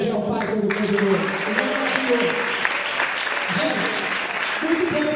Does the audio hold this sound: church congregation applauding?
yes